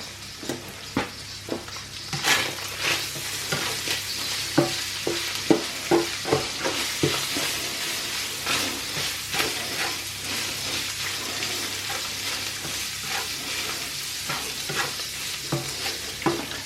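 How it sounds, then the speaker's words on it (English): Loaded fries sizzle and fry in a pan with coarse black pepper added, and a utensil stirs and scrapes through them in repeated sharp clicks and scuffs over a constant crackling hiss, with no talk. "And continue that cooking."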